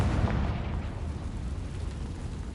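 A Confringo spell explodes in Hogwarts Legacy with a short, deep boom that rumbles and fades.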